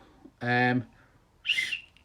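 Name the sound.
pea whistle being blown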